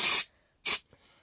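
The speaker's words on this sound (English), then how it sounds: "Spray the sides again." Spray adhesive from an aerosol can misted onto the sides of foam bass trap panels in two short, loud hissing bursts with a pause between them.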